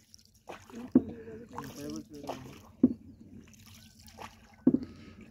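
A wooden rowboat is rowed along a river in the Sundarbans, with a few distinct splashing oar strokes spaced a couple of seconds apart, nearby and fairly clear. People talk throughout.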